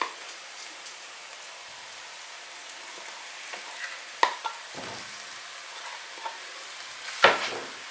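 Mashed potatoes being stirred into vegetable stuffing in a pan: a soft, low sizzle and quiet mushy stirring throughout, with a few sharp spoon taps against the pan in the second half.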